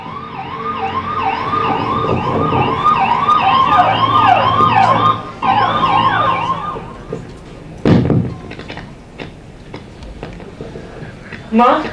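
A loud ambulance siren wails in rapid, repeating rising-and-falling sweeps, then cuts off, leaving scattered thumps and background noise.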